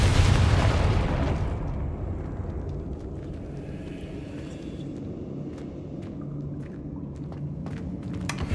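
A Confringo blast spell in Hogwarts Legacy bursts with a loud, deep explosive boom at the start, then fades into a rolling rumble with scattered small crackles and pops.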